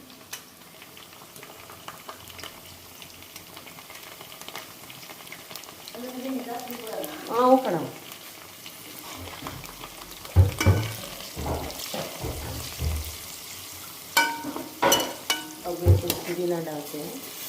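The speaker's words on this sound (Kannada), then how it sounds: "ನೋಡಿ ಈ ಥರ ಫ್ರೈ ಮಾಡಬೇಕು." Jackfruit biryani ingredients fry and sizzle in a pot with steady bubbling, broken by repeated scraping and clanking of a stirring spoon, while people talk close by.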